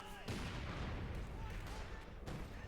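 Machine gun fire in the Company of Heroes 2 strategy game, a steady dense rattle of battlefield gunfire and booms running throughout the short stretch with a voice faintly beneath.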